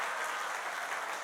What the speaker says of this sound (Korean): 여러분의 큰 함성과 축복의 함성과 그리고 격려의 박수로 우리 선교사님을 맞이했으면 좋겠습니다